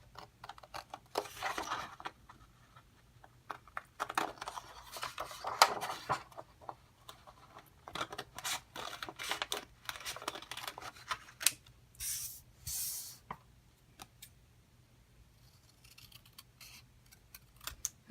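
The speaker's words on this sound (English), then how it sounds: "Cut around the edges of each of the pieces by cutting on the black dashed lines" Scissors snipping through paper while cutting out printed rocket pieces along dashed lines, a series of quiet, irregular crisp snips and rustles at close range with no talking.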